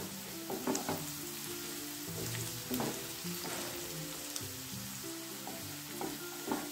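Onions fry in a pan until they turn brown, with a continuous crackling sizzle. Scraping stirs from a spatula come through at intervals, and no one speaks.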